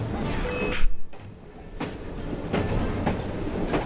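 Train in Assassin's Creed Syndicate, a rolling clatter of wheels on rails with repeated clicks and clacks over a rumbling bed, a brief loud burst early on, then steady passing rhythm.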